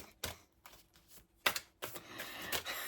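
A deck of tarot cards being shuffled up close, with sharp papery riffles and slaps arriving in uneven bursts over a few seconds, fairly quiet overall.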